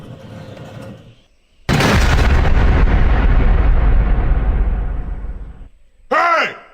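A cannon fires with a sudden loud blast and a long rumbling roar that fades over several seconds, with voices before it and a shout right after.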